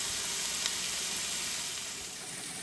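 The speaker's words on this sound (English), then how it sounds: "We're going to let this cook for about 15-20 minutes, however long it takes to get a blister on these" Canned pinto beans sizzle in a pan, a steady close hiss of frying that fades slightly toward the end with no voices.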